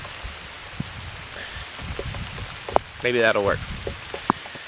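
Steady rain falls on surfaces in a Saudi Arabian city setting, a dense patter running throughout beneath a man's brief speech and a few sharper drips and knocks.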